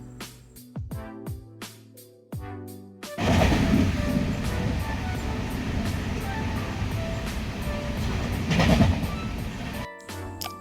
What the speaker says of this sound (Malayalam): Train number 16:33 Okha express.